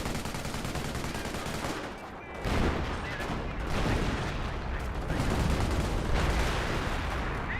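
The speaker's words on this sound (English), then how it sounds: "That was a decoy barrage." Artillery barrage and gunfire in the Company of Heroes real-time strategy game, a dense, continuous roar of blasts and rattling shots that briefly dips near the two-second mark, then resumes at a steady, loud level.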